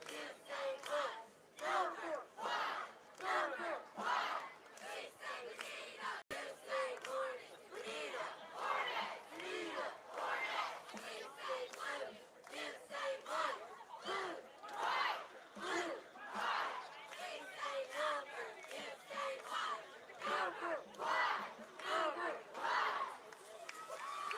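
Cheerleaders chant a rhythmic cheer at a high school home-opener football game against Dewey, a crowd of voices shouting in steady repeated bursts that fill the whole stretch, loud and continuous with stadium ambience.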